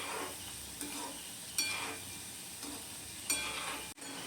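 Onion pakoras frying in hot oil over medium-high heat, a soft steady sizzle broken by a few sharper crackles and a brief clatter near the end, fairly quiet and with no talking.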